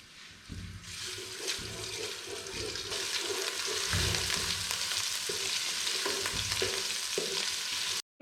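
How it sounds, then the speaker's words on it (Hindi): Ginger garlic paste hits hot oil and sizzles loudly, a dense crackling hiss that builds and holds steady with occasional stirring scrapes, close and with no voices. "ऑयल गर्म हो गया है। अब इसके अंदर हम अदरक और लहसुन का पेस्ट"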